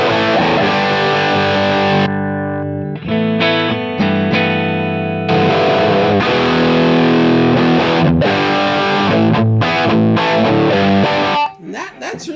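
Distorted electric guitar played through a Line 6 Helix into a Laney LFR 212 cabinet with plate reverb and chorus, loud sustained chords and riffs ringing continuously before trailing off.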